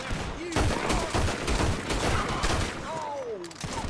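Rapid revolver gunfire in the Western video game Red Dead Redemption 2, with repeated sharp shots in a dense, uneven volley, some whizzing sounds, and a voice heard faintly underneath.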